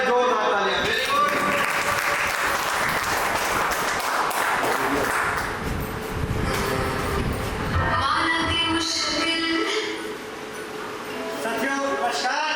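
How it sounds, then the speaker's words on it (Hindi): An audience at a school seminar event in Dewa, Barabanki claps for the guru in a loud, sustained wash of applause, with voices and talk mixed in throughout. "तो गुरु जी के लिए एक बार जोरदार तालियां"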